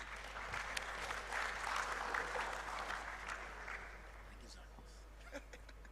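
Applause from the audience at the closing ceremony of Ghana Digital Innovation Week 2023, a steady wash of clapping from a large room that tapers off toward the end, with faint voices underneath.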